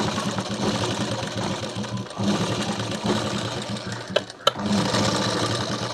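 A sewing machine runs steadily while stitching a child's blouse made from saree fabric, its mid-pitched motor whir continuous and close, with a brief pause and a couple of sharp clicks near the end.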